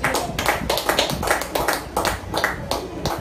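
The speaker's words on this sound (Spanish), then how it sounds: "Puede brindarle fuerte los aplausos que son para Cristo." A church congregation clapping in praise during a Spanish-language worship service, loud rhythmic claps falling in regular beats about every half second, strong and close.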